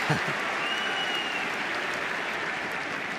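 Tennis crowd at Roland-Garros applauding during Monfils versus Baez in 2023, a broad wash of clapping from a large stadium audience, sustained and even, with commentator voices briefly over it.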